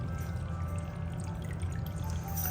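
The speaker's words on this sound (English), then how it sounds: "Seems to be pretty good water flow on top." Water churns and pours steadily at the surface of a 20-gallon saltwater aquarium, a soft continuous trickling flow with a low hum underneath, fairly quiet and unbroken.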